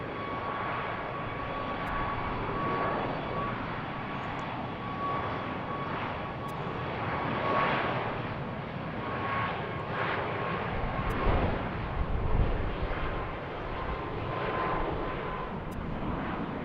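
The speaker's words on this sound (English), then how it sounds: "And here's our next Southwest departure." Southwest airliner departing from BWI, a sustained mid-level jet engine roar with a steady whine tone and gentle pulsing swells, heard at a moderate distance without talk.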